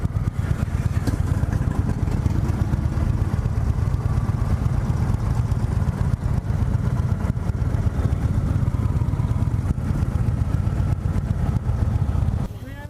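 A 2017 Indian Roadmaster motorcycle rides along with a constant loud engine drone and wind rush, steady throughout and easing off slightly at the very end.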